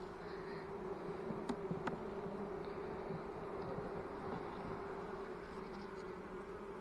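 Honey bees hum in an open, weak hive with a slow-laying queen, a soft, steady drone with a couple of faint clicks from handling.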